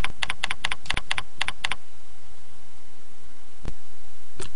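Quick bursts of typing on a computer keyboard, close and crisp, with rapid clustered keystrokes for about two seconds, then quiet with a single later click; no speech.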